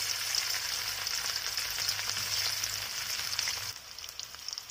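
Potatoes frying in a pan for an aloo gobi matar sabzi, a steady close hiss of sizzling oil that drops slightly quieter near the end, with no talking.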